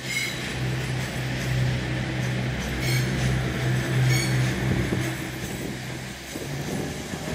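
Paired Class 220 diesel units, 220016 coupled to another set, idling at Manchester Piccadilly station: a steady low engine drone with a mechanical hum, heard a little way off, no voices.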